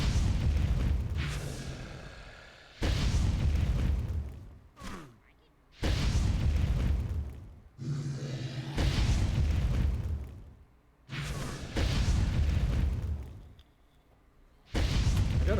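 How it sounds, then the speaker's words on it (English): Fire attacks blasting enemies in the online game Entropia Universe, with heavy booming explosions in repeated bursts of a second or two each, separated by short quieter gaps, loud and close. "Nothing like throwing a fistful of fire at your enemies."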